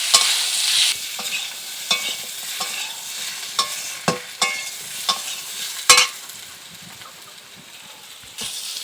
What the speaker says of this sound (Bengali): দিয়ে আমি এটাকে আবার ভালো করে নাড়িয়ে দেবো।